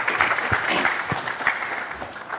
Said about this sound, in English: I just want everyone in here to give themselves a round of applause